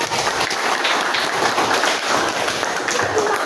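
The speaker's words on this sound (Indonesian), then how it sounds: "tepuk tangan untuk" A classroom group claps together in a steady, continuous patter during an Indonesian lesson on descriptive text, loud and close with no talk over it.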